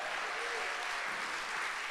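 A concert crowd at the United We Sing show claps for the band, producing a brief, steady wash of applause at moderate, somewhat distant level.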